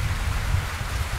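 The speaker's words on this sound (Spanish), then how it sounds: "Está lloviendo, ahora el gameplay se va a escuchar raro porque el sonido del juego y la lluvia de fondo" Steady, dense rain hissing evenly throughout with a low rumble underneath, no voices.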